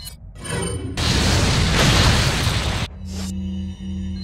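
A grenade explodes in the Resident Evil 4 video game: a loud, sustained two-second blast that cuts off sharply, followed by lower rumbling game sounds.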